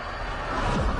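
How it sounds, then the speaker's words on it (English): A loud rushing roar of a video game shuttle taking off builds over a second, with a deep rumbling whoosh swelling toward the end. "That is the sound of a very loud shuttle taking off."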